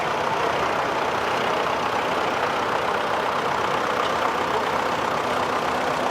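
A vintage Massey Harris Pony tractor engine idling at a vehicle show in Wanaka, a loud steady rumbling drone close by without change, no talking.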